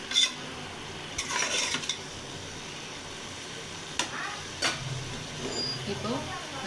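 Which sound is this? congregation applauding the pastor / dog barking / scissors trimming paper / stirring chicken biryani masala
stirring chicken biryani masala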